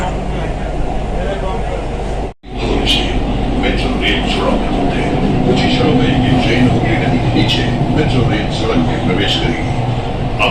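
A metro train runs through the tunnel beneath the Ganges river with a loud, close, continuous rumble and rattle. The roar briefly cuts out near the start, then resumes steadily.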